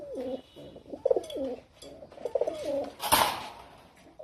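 Pigeons coo in a loft, with several soft repeated throaty coos close by and a brief flutter of wings, faint overall.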